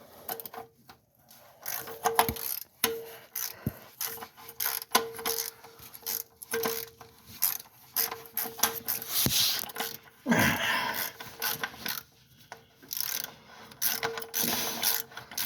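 A ratchet socket wrench fitted with an extender clicks in quick bursts while working on a car during an oil change, its rapid pawl ticking close and fairly quiet, stopping and starting with no talk.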